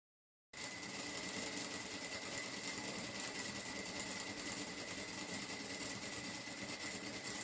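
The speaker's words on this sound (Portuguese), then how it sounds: "Fiz uma costura bem aqui na borda e outra costura 1 centímetro para cima." A sewing machine stitches a fabric seam near the edge of a cloth bag. It runs as a steady, continuous mechanical whir with a fast rhythmic clatter, starts abruptly after a brief silence and holds an even level throughout, with no voices.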